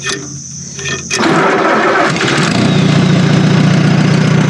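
A 1954 Allis Chalmers Model B tractor engine cranks and catches, then settles into a loud, close, steady running chug with a rising throb.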